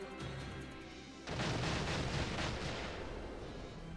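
A large explosion blasts apart No Man's Land in Valkyria Chronicles, breaking in abruptly as a loud, sustained roaring burst that rumbles on and slowly fades, with no voices over it.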